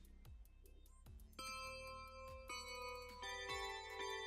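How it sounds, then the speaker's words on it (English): Wedding bells chime in a series of clear, ringing strikes with long, shimmering overtones. The tones overlap as they build into a fuller peal, heard alone at moderate distance. "Cue the wedding bells."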